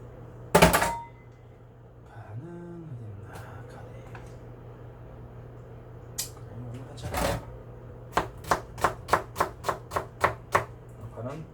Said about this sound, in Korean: 그다음에 이제 양파 썰겠습니다.